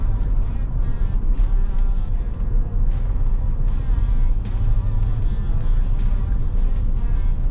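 A 2012 Jeep Grand Cherokee being driven, its engine and road noise forming a steady, loud interior rumble with a continuous whining hum, heard from inside the cabin and uninterrupted throughout.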